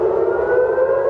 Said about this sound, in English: Sirens as far as Tel Aviv, warning of shrapnel falling from a second barrage.